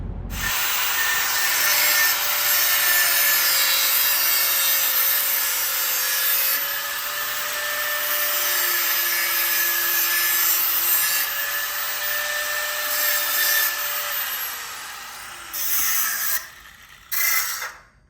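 Excess material is cut away while working on a Kenworth truck, a continuous loud rasping, grinding saw or cutting noise that holds steady for about fifteen seconds. It then sputters in short bursts and stops, with no talk.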